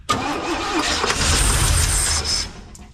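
An abandoned 1971 Chevy K-20 truck engine cranks briefly, then catches and roars to life, running loud and rough for about two seconds before easing off, with no talk over it.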